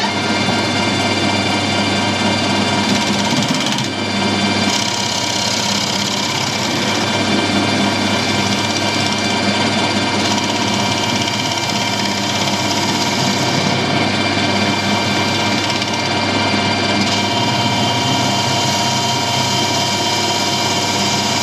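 A lathe runs steadily while facing and drilling an air rifle moderator part, giving a continuous, loud mechanical whine and hum with little change throughout.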